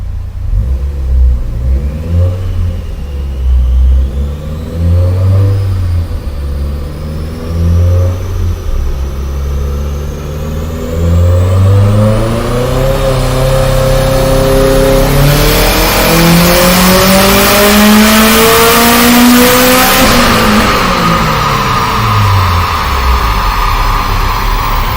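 A built 2.5-litre Subaru Bugeye engine revs up under load, climbing steadily in pitch as turbo boost builds, then drops off near the end; loud, close and continuous with no talking.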